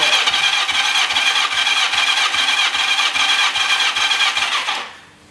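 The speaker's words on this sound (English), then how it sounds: "Full open throttle" A Yamaha XJ650 four-cylinder motorcycle engine cranks over with the throttle held fully open during a compression test, a loud, rapid, rhythmic starter whir that runs steadily for about five seconds and then stops abruptly.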